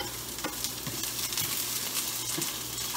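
Steak and broccoli stir fry sizzles steadily in a hot pan, a continuous close frying hiss with a few soft stirring scrapes and clinks, no talking.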